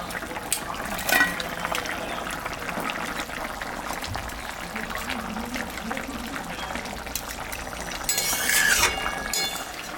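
Hilsa pieces go into a bubbling mustard curry broth with cauliflower and potato, giving a steady simmering hiss with soft clinks and a brief louder splash-like burst near the end, close by.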